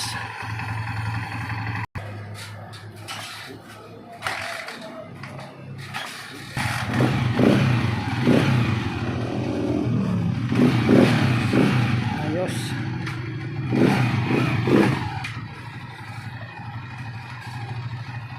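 A Honda TMX 155 motorcycle engine idles with a steady low putter, then revs in several rising bursts. It is loud and close, with people speaking over it.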